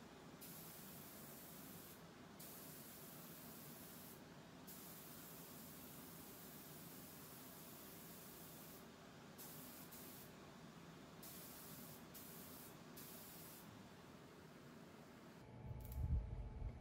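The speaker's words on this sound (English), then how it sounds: "Coat of primer here, really nothing else new, just spraying it on." Spray-on primer coat hissing steadily from a spray can onto a piece of furniture being refinished, a continuous close broadband spray lasting throughout with brief pauses, ending in a louder low-pitched rumble.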